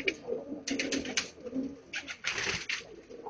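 Pigeons kept for flying coo in a loft, giving several soft, close, rounded coos in short bursts, with low rustling between them.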